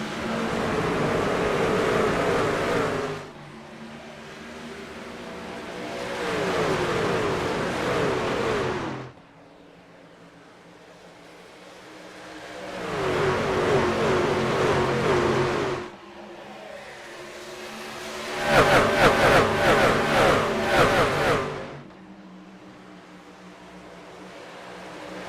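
Race trucks in an iRacing truck series event at Nashville, engines repeatedly revving up and accelerating in loud surging passes that rise and fall across the clip, alone without talk.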